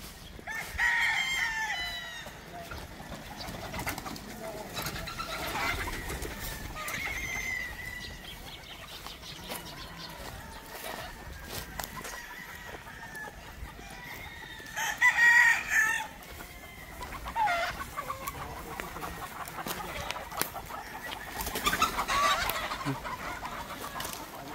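Gamefowl roosters at a breeding range crow repeatedly, their calls rising from a busy background of clucking hens and other birds, with occasional wing flaps; several crows carry clearly while others sound more distant.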